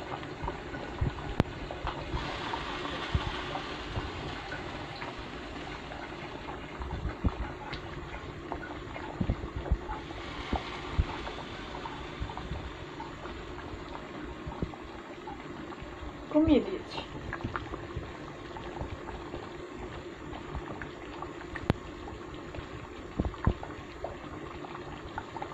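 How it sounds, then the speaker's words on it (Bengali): Bone curry bubbling as it boils in a pot, a steady low gurgling and simmering with scattered pops that continues throughout, with a voice talking at times over it. "এই যে দেখো হাড্ডির তরকারি কিভাবে গটগটাচ্ছে"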